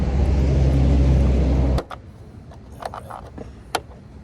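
A Traxxas Rustler Ultimate 3S RC truggy on its first run gives a loud, close electric motor whine for under two seconds, then cuts out, leaving a few faint clicks and taps.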